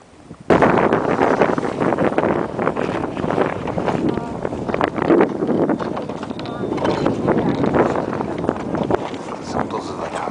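A strong gust of wind roars across the mic on a frozen lake during ice sailing and skating, a steady loud rush with ice scraping beneath, while someone speaks Czech over it.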